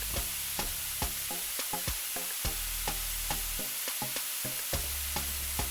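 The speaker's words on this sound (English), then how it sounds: "I'm just going to saute that and set it aside." Chopped vegetables sauté in a pan with a constant bright sizzle, punctuated by regular clicks and taps of a spoon stirring, close and fairly quiet.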